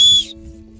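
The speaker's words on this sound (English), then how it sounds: "So it's actually this whistle, that the wind that is blowing, that's actually pushing up over here" Wind whistling over a mountain trail on the Katraj–Sinhagad trek, a loud, high, steady whistle lasting about a third of a second before dropping to a low, continuous rumble of wind.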